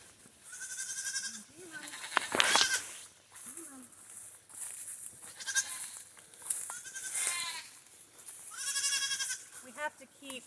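Young goats on a homestead bleat repeatedly in short wavering cries, close and fairly loud, with a person talking between and under the calls.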